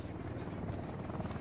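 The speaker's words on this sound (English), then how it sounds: "Oh, that's a beast of a helicopter" Helicopter in the Ghost Recon Wildlands video game, a steady rumbling rotor drone that stays loud and continuous throughout, with faint voices mixed in underneath.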